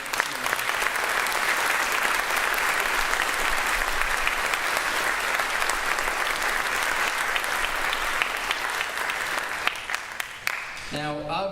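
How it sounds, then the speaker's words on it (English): Sustained applause from a large crowd at a Marine Corps JROTC change of command ceremony fills the room, steady and loud for about ten seconds before tapering off. "please, round of applause for Lieutenant Colonel Hewitt and Master Gun"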